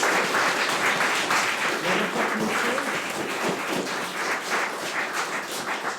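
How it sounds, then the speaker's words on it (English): A sustained round of audience applause fills the room after a composition masterclass, many hands clapping steadily and densely for the full stretch, fairly loud with no talk over it. "let's give all of our students a round of applause"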